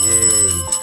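A studio bell rings with a sustained, resonant tone that holds steady for most of a second before being damped, then sounds again briefly near the end, close and clear.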